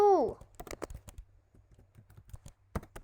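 Typing C code on a computer keyboard: a steady run of quick, close key clicks in uneven bursts, with a short tonal sound at the very start.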